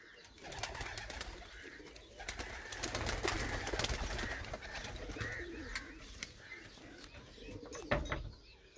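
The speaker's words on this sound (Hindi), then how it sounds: "कबूतर देख रहे हैं" Pigeons coo softly and continuously nearby, a low burbling chorus with occasional chirps and wing flutters.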